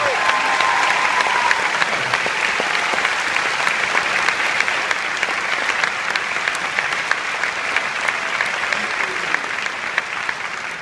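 An audience at a Christian chapel marriage conference applauds warmly to welcome a speaker, a loud, dense and steady clapping that carries on for around ten seconds with no talk over it.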